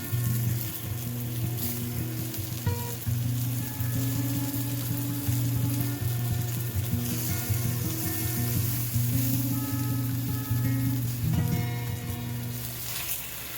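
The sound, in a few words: floured eggplant slices frying in a pan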